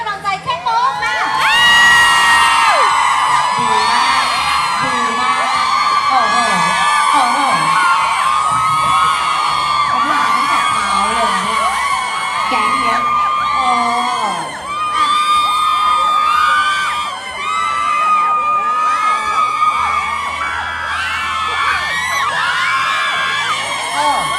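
Fans at a Thai celebrity public appearance scream and cheer loudly and without a break, a dense wall of high-pitched shrieks and whoops that carries on throughout.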